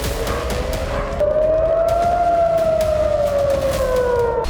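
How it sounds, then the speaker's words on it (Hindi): An air raid alert siren sounds in Israel, a loud, sustained wailing tone that rises slowly then gradually falls, steady and unbroken, with no voices. "इजराइल में शुक्रवार से अब तक कई बार एयर अलर्ट का सायरन बज चुका है।"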